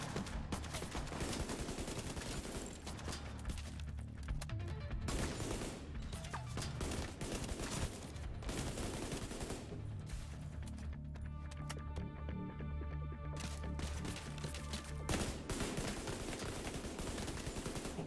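Rapid, heavy automatic gunfire from a hard-recoiling weapon in The Division 2 Dark Zone PvP, with loud sustained bursts broken by a few short pauses and faint voices underneath.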